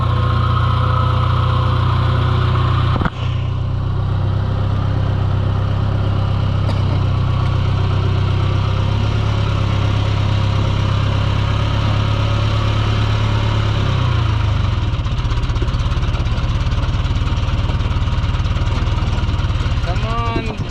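A John Deere 2020 tractor's heavy diesel engine idles steadily and loudly throughout, a constant low rumble with a brief clunk early on and a slight shift in tone later.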